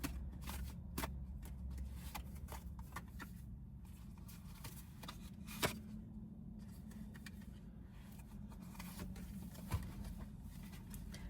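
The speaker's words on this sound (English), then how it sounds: "I'm going to shuffle one more time." Tarot cards being shuffled in a continuous papery riffle and flutter, with a couple of sharper snaps near the end, close and fairly quiet.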